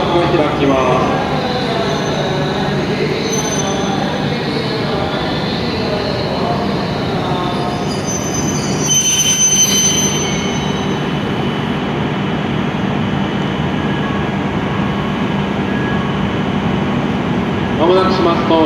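A Shinkansen E7 series train on the Hokuriku line pulls into Kanazawa station and comes to a stop, with a loud rumbling roll, wheel and brake squeal near the middle, and platform announcements over the top.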